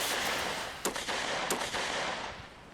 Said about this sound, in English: soldiers fired flare guns and rifles in a desperate attempt to warn those living downstream